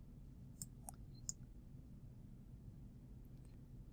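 Computer mouse clicking on a publish button, a few faint, sharp, isolated clicks over a quiet hiss, no talking.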